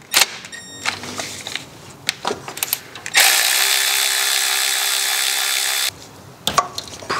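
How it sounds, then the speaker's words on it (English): A 10 mm bolt on a power steering pump, BA/BF type, being loosened through the pulley holes: scattered clicks and clunks, then a steady, loud ratcheting or power-tool run of about three seconds, followed by more brief knocks. "What I'm going to do first is loosen these bolts. They're 10 mil"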